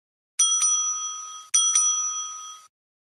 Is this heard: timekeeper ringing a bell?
yes